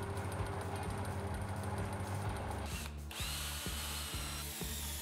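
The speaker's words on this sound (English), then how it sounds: "I drill a hole for the cable and put the switch in its gap" A power drill bores a hole for a cable in a homemade band saw build, whining steadily and close, then dropping in pitch with a few sharp clicks as it slows.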